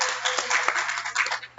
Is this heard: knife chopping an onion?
no